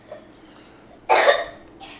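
A child coughs once, a loud, harsh burst near the mic, then a softer second cough follows shortly after against a quiet home background.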